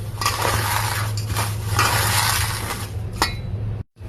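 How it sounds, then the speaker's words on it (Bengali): Dry vermicelli being broken into small pieces by hand for a sweet dish, making steady crackling and crunching with light clinks for about four seconds, ending in a brief silence, no voices. "সিমাইটাকে একটু ছোট ছোট করে গুঁড়ো করে নেব।"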